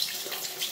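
Water runs steadily from a tap into a sink, a continuous close hiss with no voices.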